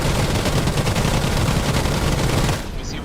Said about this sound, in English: I thought that the cannons were going to definitely help us here in our fight.